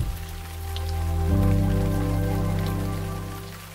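Rain patters down in a steady, soft wash of drops, swelling slightly then easing, heard alone over sustained tonal sounds, with no one speaking.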